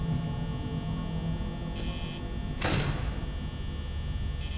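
A security door in the Five Nights at Freddy's game slides shut with a single short mechanical whoosh and thud over a steady background hum.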